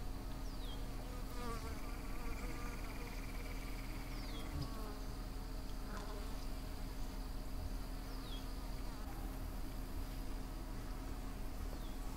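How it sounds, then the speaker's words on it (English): Honeybees and several wasp species buzz steadily around sugar syrup feeders outdoors, a dense continuous hum of many insects close by with occasional louder passes. "you can see the honeybees are congregated there to the right side of the screen"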